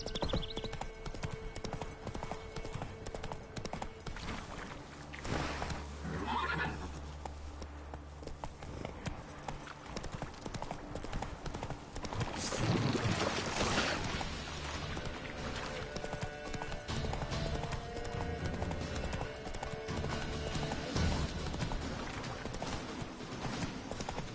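Roach, the horse in The Witcher 3, gallops with rapid, rhythmic clip-clop hoofbeats across the whole stretch, close and steady, with a brief neigh-like swell and faint game ambience beneath.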